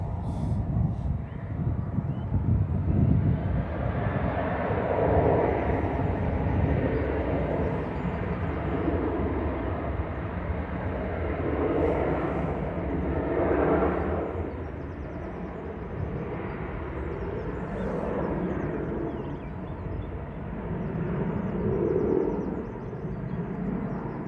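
Jet airliner departing Manchester Airport at dawn, its engine roar broad and steady for the whole stretch, swelling and easing slightly at a moderate distance, with no talk over it.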